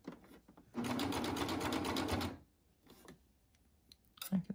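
A Baby Lock serger stitches knit mask fabric in one loud, steady burst lasting about a second and a half, then stops, leaving a few faint clicks and handling sounds.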